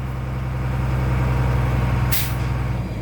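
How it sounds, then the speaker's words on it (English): A truck idles with a steady low engine rumble as its air brake compressor governor cuts out at 125 psi, releasing one short, sharp burst of hissing air near the end. "My air compressor governor just cut out at 125 psi on the primary."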